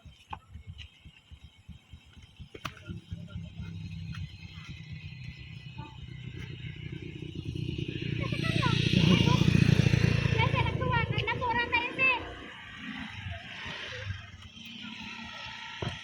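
A motorcycle engine rumbles and swells to a loud pass midway, then fades, with people talking throughout.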